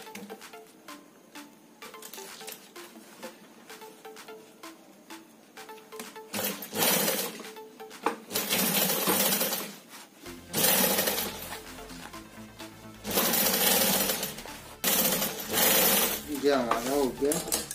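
A sewing machine stitching a border onto a fabric shoulder bag runs in several loud bursts of rapid, steady whirring separated by short pauses, close by, with faint handling noise between runs.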